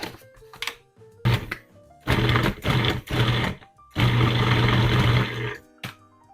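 A food processor pulses flour, butter and lard for a pie crust in short bursts: several loud, close whirring blasts of uneven length, separated by pauses, with a longer final run.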